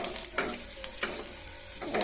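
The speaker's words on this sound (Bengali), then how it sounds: "এবার আমি এটাকে ভালো করে নাড়িয়ে নেব।" Onions and chilies frying in a pan while being stirred, giving a steady sizzle broken by repeated scraping strokes, close and continuous with no talk.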